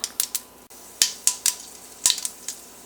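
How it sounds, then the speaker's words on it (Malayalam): Mustard seeds crack and pop in hot oil for a gooseberry pickle. About eight sharp, separate snaps come at an uneven pace over a quiet background. "കടുക് പൊട്ടിയിട്ടുണ്ട്."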